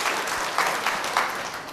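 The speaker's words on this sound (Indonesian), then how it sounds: "Ayo tepuk tangan." A crowd applauds together at an Indonesian gathering, a brief, dense burst of clapping, fairly loud and continuous for under two seconds.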